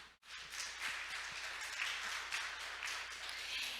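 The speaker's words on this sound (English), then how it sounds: "Another big round of applause." Sustained audience applause for a speaker at a Korean maritime week conference, a steady wash of many hands clapping that holds at an even level throughout.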